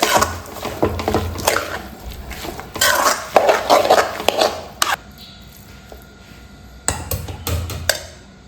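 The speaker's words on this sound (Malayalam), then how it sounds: "നന്നായിട്ടൊന്ന് ഇളക്കി" A spoon stirs and mixes food in a pot with repeated clinks and scrapes against the metal, loud and close, pausing briefly midway before resuming.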